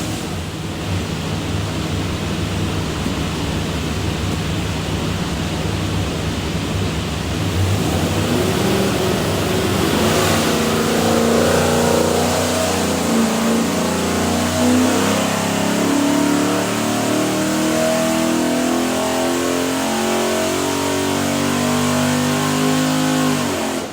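A stack-injected 347 stroker V8 on a dyno for a GT40 replica, loud and continuous, climbing in pitch as it revs up through a long pull, with a steady roar and no talking.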